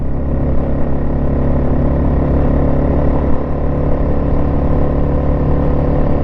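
A 1996 Yamaha Wolverine 350 4x4 ATV engine drones steadily up close while riding through the gears, a loud, continuous mid-range hum with no clear break marking each shift.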